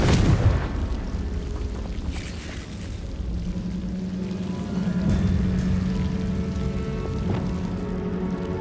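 Bombarda and Confringo spell explosions in Hogwarts Legacy on Nintendo Switch, a strong blast at the start followed by rumbling, crackling debris and a dull sustained roar of moderate loudness.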